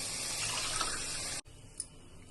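Water pours from a cup onto soaked Sona Masuri rice in a pot, a soft continuous splash that stops abruptly partway through, followed by quiet and a single small clink.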